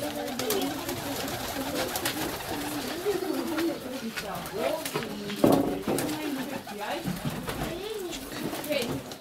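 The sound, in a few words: pigeons cooing in a dovecote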